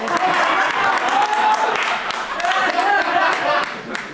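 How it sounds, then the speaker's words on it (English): Scattered clapping from a small audience at a comedy show, fairly close and steady for about four seconds, with murmured voices mixed underneath. "I will clap for some reason."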